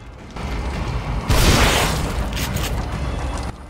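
A single heavy shotgun blast in The Evil Within, a loud close boom that rings out for a moment over a steady background hum of game ambience.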